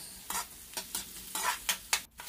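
Garlic and onion sizzling in a pan for spicy shrimp gambas, with a spatula stirring in quick repeated scrapes over a soft steady sizzle, close and fairly quiet.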